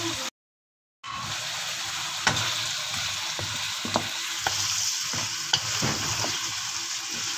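Potato and vegetable curry with ginger stir-frying in a pan, a steady close sizzle with occasional clinks of the spoon, briefly cut by a second of silence near the start.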